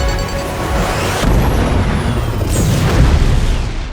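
A film missile explosion: a heavy boom with rumbling blast debris, followed by a second burst, loud and dense across the whole short stretch, with no voices.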